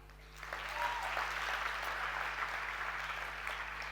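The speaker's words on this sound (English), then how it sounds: "first a round of applause for all of you" A live audience at a women's event gives a sustained round of applause, rising quickly after a brief quiet start and holding steady, dense clapping throughout with a faint steady hum underneath.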